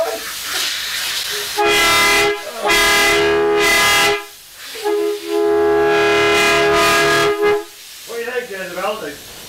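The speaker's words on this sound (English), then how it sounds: "Just take that as a mouth horn." A handheld mouth horn blown aboard a boat gives three loud, steady blasts, one short and two long, separated by brief gaps, followed by a moment of quiet voices at the end.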